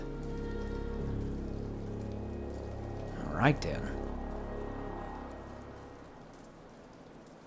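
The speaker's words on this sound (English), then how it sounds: "The rain never let up." Rain pours steadily in the video game Ender Lilies: Quietus of the Knights, a constant patter under game music, with a brief louder swell midway and someone speaking briefly over it.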